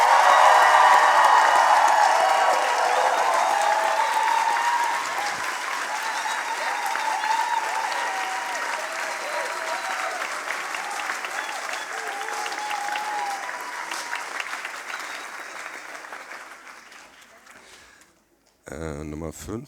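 At a science slam, an audience gives sustained, enthusiastic applause with some cheering, loud at first and slowly fading away over many seconds before a brief burst of other sound at the end.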